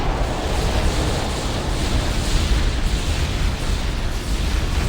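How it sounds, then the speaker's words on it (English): A Halo Wars artillery barrage rumbles on without pause, a thick, loud wash of overlapping blasts and roaring debris with no clear gaps between impacts. "Barrage launch."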